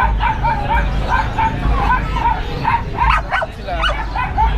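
Several Pomeranian dogs yip and bark in short, high, excited bursts nearby, with whimpers mixed in and people talking over them.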